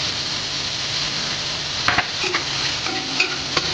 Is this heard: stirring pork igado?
yes